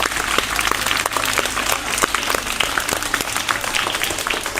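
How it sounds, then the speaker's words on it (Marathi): Audience applause fills a junior college hall during a Lokshahir Annabhau Sathe birth anniversary and Lokmantra Tilak death anniversary program, as a crowd claps steadily and loudly for two hosts, dense sharp claps sustained throughout. "पहिल्यांदा त्या दोघीसाठी खूप खूप टाळ्या वाजवूयात आपण"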